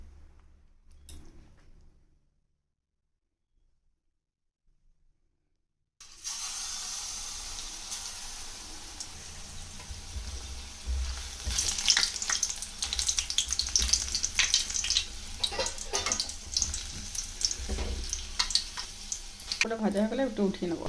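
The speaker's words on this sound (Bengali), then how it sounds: "কড়াইয়ে তেল দিয়ে দিয়েছি, এবার তেলটা গরম হোক, তারপরে এই ধনেপাতার এটাকে" Coriander leaf fritters fry in hot oil in a wok. A short silent gap gives way to a steady, continuous sizzle with occasional clatter from stirring.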